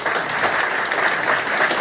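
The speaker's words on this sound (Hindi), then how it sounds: "एक बार जोरदार ताली" Sustained loud applause from a seminar audience in a hall during an RCM business success-story event, dense clapping filling the whole moment without pause.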